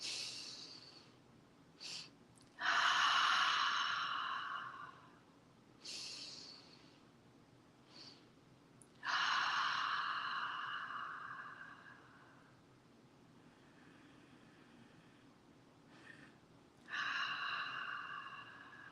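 Deep breathing exercise, with several slow, audible breaths close to the listener, each a long airy inhale or exhale separated by quiet gaps.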